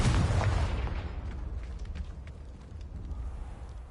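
A Confringo spell explosion in the game Hogwarts Legacy opens with a heavy, booming blast that slowly decays into a low, fading rumble, heard alone.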